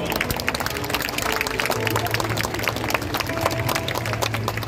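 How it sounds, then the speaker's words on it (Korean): Steady, dense clapping from a large crowd at an outdoor religious rally, sustained and even throughout with no pause. "하나님께 박수를 드리겠습니다."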